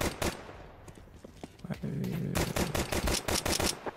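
Gunfire in the video game Counter-Strike 2, bursts of sharp close shots, a brief pause, then a dense rattling exchange of rapid fire.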